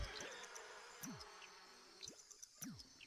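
Faint buzzing of bees in The Sims 4 drones softly in the background, with occasional quick rising and falling tones darting over it.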